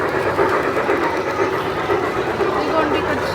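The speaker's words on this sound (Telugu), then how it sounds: "జంక్షన్లో ఉన్నాము. ట్రైన్ వస్తుంది." A train rolls in at a junction inside a train-themed restaurant in Vijayawada, giving a continuous close rumble with faint clatter, while voices chatter in the background.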